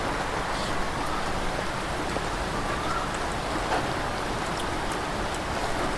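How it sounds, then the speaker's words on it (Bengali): Rain falling outside a rural home makes a constant, even hiss of steady downpour, moderately loud and unbroken, with no one talking. "বাইরে বৃষ্টি এলো,"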